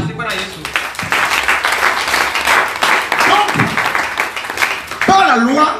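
A church congregation applauding to acclaim Jesus during a sermon, with sustained clapping from a crowd and a voice speaking over it, louder near the end.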